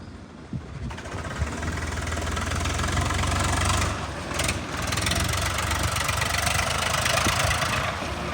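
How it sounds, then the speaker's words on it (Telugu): A tractor engine rumbles steadily as it drives past along a village bus route road, a loud low drone that swells in the middle and carries on close by, with no talk. "ఈ ట్రాక్టర్ వెళ్తుంది కదా"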